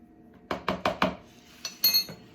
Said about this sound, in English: I'm going to mix the cornstarch